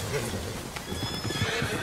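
A white Arabian horse in Red Dead Redemption 2 neighs and whinnies close by, with hoof clip-clops and a rider's voice mixed in over the short burst.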